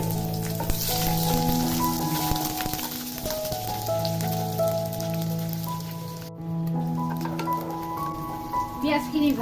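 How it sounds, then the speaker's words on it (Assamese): Onions frying in a pan for an Assamese mushroom curry, a steady rain-like sizzle running throughout beneath a person talking, with sustained tonal humming layered over the frying noise. "এতিয়া মই অকণমান পিঁয়াজখিনি ভাজি দিছোঁ"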